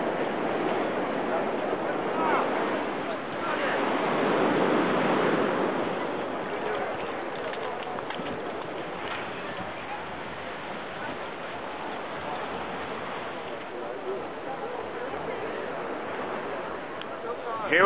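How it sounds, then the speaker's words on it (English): Waves breaking over a shelf at a beach break in a 10 to 12 knot wind, a continuous loud rushing surf with surges and steady wind buffeting the microphone. "There is a shelf right here where the waves are coming in."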